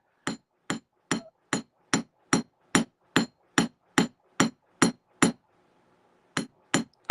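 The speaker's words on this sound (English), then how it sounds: "you have more precision over where your hammer strikes fall" A hammer strikes copper metal to texture it, a steady run of about fifteen sharp, ringing metallic taps at an even rhythm, then a short pause and a few more blows, close up and loud.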